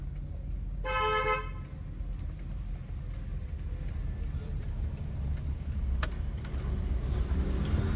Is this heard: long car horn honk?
yes